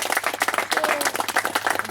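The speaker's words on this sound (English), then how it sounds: "deserves a round of applause" Audience applause and clapping at a 2019 music festival gathering, dense and steady for the whole two seconds with a faint voice or two mixed in.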